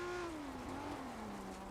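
A BMW M1 with a six-cylinder engine is heard up close, holding a steady, loud drone whose pitch eases down gradually, with no talk over it.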